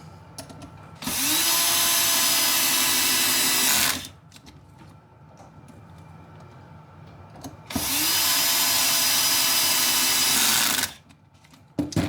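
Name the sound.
power tool driving rear screws on skid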